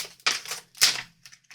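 A small rubber dahlia stamp inked in Intensifying Glare Nocturne is pressed down onto scrap paper, giving a few soft, close taps and pats spaced irregularly, with no voices.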